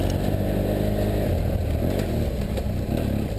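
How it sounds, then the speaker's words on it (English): A BMW F800GS motorcycle carries two riders along a bumpy off-road trail, its engine droning steadily up close with some rattle and clatter. "As you can see, we can go a little faster than most of the ATV guys, with Mama on the back especially"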